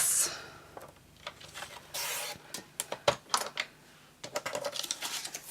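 Paper card being cut for a handmade shadow box, a run of sharp, close clicks and snips with irregular spacing and short pauses, alone with no talk.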